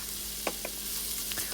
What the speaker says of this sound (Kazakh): Одан кейін күрішімізді жақсылап жуып, оны да қосып қуыратын боламыз.